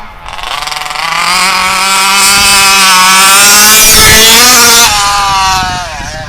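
A nitro-powered HPI Baja RC car engine held at full throttle, screaming loud and close with a high, steady buzzing whine that climbs slightly in pitch and then eases off toward the end.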